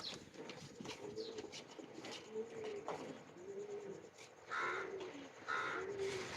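Rampuri teddy pigeons in a breeding loft give soft, low cooing calls, with two brighter bursts near the end and a few other bird calls around them, close by.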